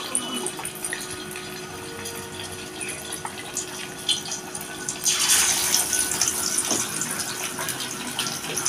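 Thin rui fish roe fritters frying in hot oil, a steady bright sizzle that swells louder midway as fresh batter hits the pan, close and continuous with no talk.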